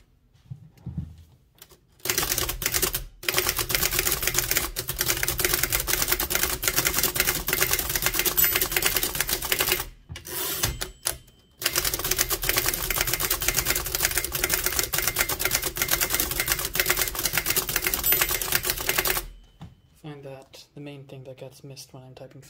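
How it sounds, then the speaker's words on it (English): Rapid typing on an Empire No. 2 thrust action typewriter from 1914–1922 makes dense, continuous clacking. Brief pauses break the runs, and a voice starts speaking as the keys stop. "see how fast I can type."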